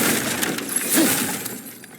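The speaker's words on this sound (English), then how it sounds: "back to smashing through things for fun and profit" Objects smash and break in God of War Ragnarok, a close crash of shattering debris with a brief ringing tone, then settling rubble.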